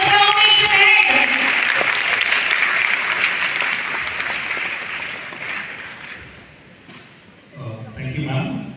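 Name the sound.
audience applause at a celebration event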